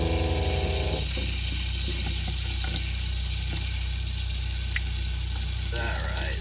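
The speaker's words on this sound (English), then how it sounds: "That noise you heard is the water pump" Onboard water pump in a 1999 Dodge Roadtrek Popular 190 camper runs as a steady mechanical whir and hum, with a louder burst at the start, light clicks and water sounds over a constant background drone.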